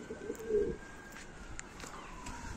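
Homing pigeons give a short low coo up close, followed by quiet background ambience with faint chirps.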